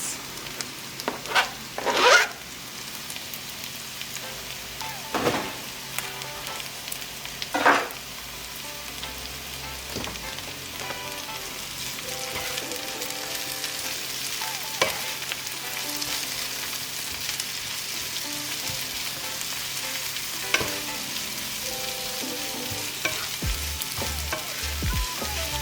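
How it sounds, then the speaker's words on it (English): Carrots and spring onion frying in a pan, a continuous sizzle with occasional louder scraping and stirring bursts, close and steady with no talking. "you're gonna add in your carrots and your spring onion, and you're gonna fry it for another 3 minutes."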